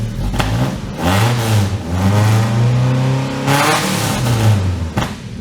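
An old Toyota truck engine revs through a new exhaust muffler, giving loud, close rising and falling roars in two main pulls with brief dips between them and no talking.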